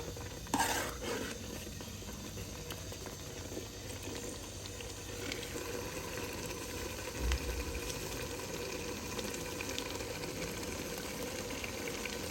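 Beef and turnip curry with mashed turnip sautéing in oil in a pan, giving a steady low sizzle and bubbling with occasional stirring knocks.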